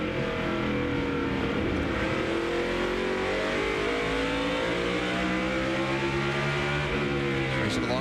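A NASCAR Busch Series stock car at Martinsville Speedway roars on board, its engine holding a loud, steady drone with rising and falling pitch sweeps as it revs through the short oval's corners.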